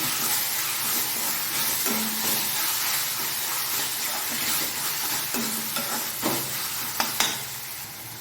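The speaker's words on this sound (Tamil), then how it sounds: "இப்போ தக்காளி வந்து ஓரளவு நல்லா வதங்கட்டும்" Tomatoes sauté with salt in a pan, giving a continuous close sizzle broken by a few sharp spatula scrapes and stirs near the end.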